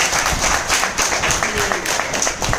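An indoor audience applauds at a product testimonial gathering in Vejalpur, Ahmedabad. Dense, continuous clapping fills the whole moment at moderate loudness, with a voice mixed in.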